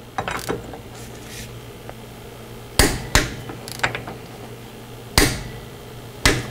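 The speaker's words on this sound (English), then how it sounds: "Now I have my torque wrench set up to 74" A torque wrench tightens the rear differential pinion nut on a Mercedes/Dodge Sprinter to 74 foot-pounds: a few scattered metallic ratchet clicks, then several sharp, loud clacks spaced over a few seconds, close up with no talk.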